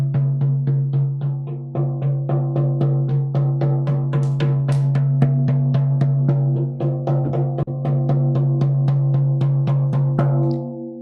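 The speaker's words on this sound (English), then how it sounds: "So the drum beat sounds like this." A monotonous shamanic journey drum pounds out a steady, rapid stream of even beats, each hit ringing with a sustained low resonance, loud and alone.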